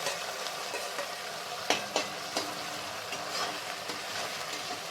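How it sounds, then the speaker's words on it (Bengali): Onion and chili paste frying in a kadai for a doi katla fish curry, a soft steady sizzle with a few sharp scraping strokes of a spatula, fairly faint and without talk. "এই অবস্থায় আমি পেঁয়াজ বাটা আর লঙ্কা বাটাটা একসাথে কড়াইতে এটা দিয়ে দেবো"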